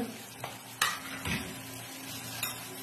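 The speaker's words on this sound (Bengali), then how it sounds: "আর একটুখানি ভাজা হোক" Baby rohu fish fries in a pan for a curry, a soft, close sizzle broken by a few sharp clicks and taps of utensils against the pan.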